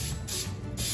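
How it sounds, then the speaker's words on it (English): Pam baking spray hisses from the can onto a spatula in two short, close bursts separated by a brief pause. "Pam baking spray"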